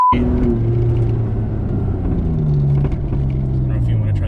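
A Toyota Tacoma engine with a custom tune pulls at full throttle, a deep steady rumble with rising and falling engine pitch, heard from inside the cab with people talking over it.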